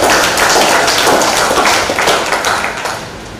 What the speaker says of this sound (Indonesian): saya minta tepuk tangan dari tim penulis